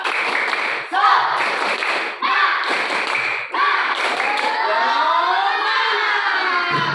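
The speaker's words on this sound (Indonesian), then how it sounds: "Sekali lagi, tepuk semangat." Students repeat a chanted clapping routine in a classroom. Groups of crisp, close claps come in rhythmic bursts mixed with loud group voices.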